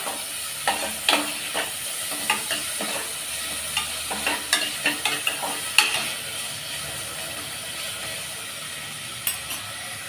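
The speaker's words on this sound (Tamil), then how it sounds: "ரெண்டு மீடியம் சைஸ் தக்காளி கட் பண்ணி வச்சுருக்கேன் அதை அது கூட சேர்த்து நல்லா எல்லாத்தையும் சேர்த்து வதக்கி விட்டுடலாம்" Tomatoes and garlic sautéing in a pressure cooker for sambar rice, with repeated scraping stir strokes over a soft, steady sizzle, close and moderately loud, no talking.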